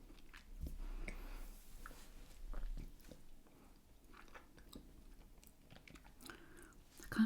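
Close, quiet chewing of Michigan Windmill cookies, with soft crunches and biting sounds repeating through the mouth, no talking over them.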